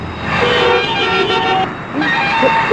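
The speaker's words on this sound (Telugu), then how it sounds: "ఇదేం ట్రాఫిక్, ఇదేం రోడ్లు." Busy road traffic on an Indian street, heard from inside a car, with a steady wash of engine and road noise and short toots of car horns sounding over it.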